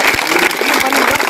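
Loud, close applause welcomes a student interviewed about Bihar board matric results, a dense burst of clapping with soft thumping claps underneath.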